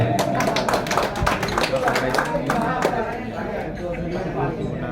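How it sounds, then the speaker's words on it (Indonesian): A crowd applauds at an association leadership gathering in Surabaya, with dense, steady clapping filling the whole stretch, close and fairly loud, over a continuous murmur of voices. "Dinda Ramadan, tepuk tangan untuk beliau."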